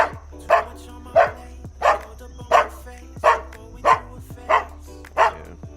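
A dog barks in a slow, even series of about eight sharp, loud barks close by, with faint whimpers between them, outdoors in Jamaica.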